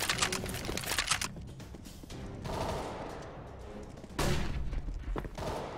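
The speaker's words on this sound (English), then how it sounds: "Decoy's out." A decoy grenade in CS:GO on Mirage plays fake gunfire, a spread of rapid shot bursts, some louder and others more distant, continuing throughout with brief lulls.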